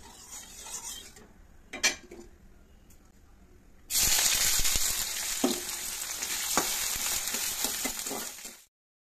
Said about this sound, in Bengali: তো চলো রুটিগুলো ভেজে নিই